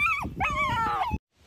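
Young puppy whimpering near a chicken coop in the Philippines, a high wavering whine rising and falling twice over about a second, close and clear, then cutting off abruptly into silence.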